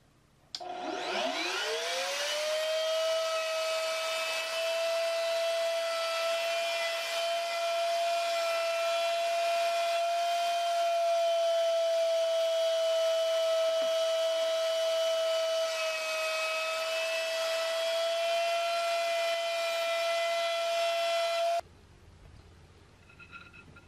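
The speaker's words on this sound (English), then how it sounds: "I set the router up with a 1/4 inch straight bit so that I could cut grooves in all the boards here" An electric router fitted with a 1/4 inch straight bit cuts grooves into wooden boards for a sand casting flask. It spins up quickly into a loud, steady high whine for about twenty seconds, then cuts off abruptly, leaving quiet room noise.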